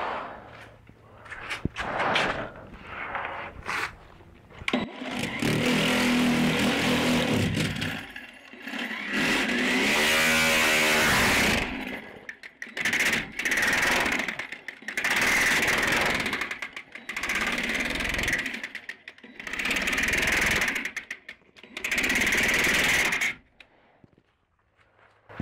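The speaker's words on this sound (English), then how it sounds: "Hopefully that's enough to give the grinder enough power to spin it." An angle grinder drives a homemade spinning contraption in loud on-off bursts, a harsh whining roar that revs up and cuts out repeatedly, with a wobbling rhythmic churn during one longer run.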